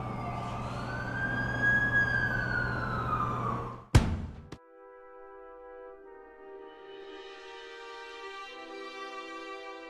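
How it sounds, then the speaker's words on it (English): An ambulance siren in the Amazing Spider-Man 2 video game wails loudly with a rising and falling tone, then cuts off abruptly, leaving a quieter tonal game background. "That's the ambulance I called."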